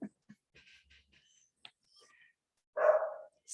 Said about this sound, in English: And we have dogs barking now.